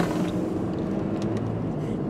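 A car moving along a road, heard as a dense, steady low rumble of engine and road noise from inside the vehicle, with no talking.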